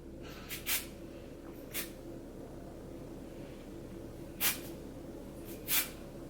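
A volumizing texture spray is squirted onto curled hair in four short hissing bursts spread across a quiet steady background hum, the first pair close together and the last two louder.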